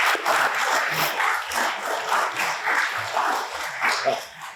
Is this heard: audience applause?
yes